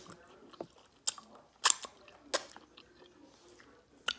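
Close crunchy bites and chewing of crispy fries and wet wings, with several sharp crackling crunches spaced irregularly through quiet pauses and no talking.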